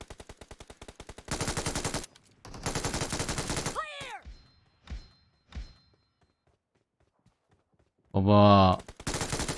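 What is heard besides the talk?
gunfire from a gun in a video game (PUBG)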